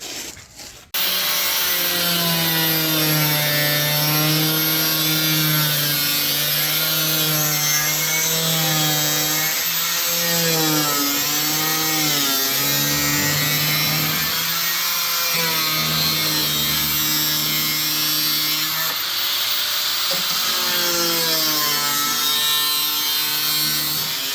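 Power tool cutting a hole in the frame rail of a 1972 BMW 2002, a continuous loud whining grind with the pitch rising and dipping as the load changes, running without pause.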